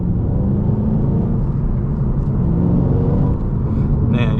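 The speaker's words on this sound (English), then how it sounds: "Man, yeah, just a very, very strong engine down low." A 2014 SVT Shelby GT500 muscle car's engine rumbles loud and steady from inside the cabin as it pulls hard at low revs, a continuous deep drone with no talk over it.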